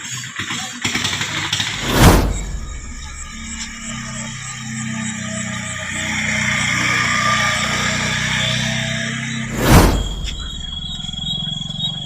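A motorcycle engine starts and settles into an idle, with two short loud bursts about eight seconds apart and a steady mid-pitched running drone between them, close by.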